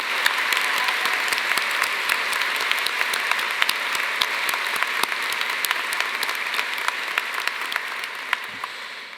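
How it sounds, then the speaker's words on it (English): Audience at a university arts college commencement ceremony clapping, dense and sustained applause from a large crowd, loud and steady before tapering slightly at the end. "I would like all of us to give a round of applause"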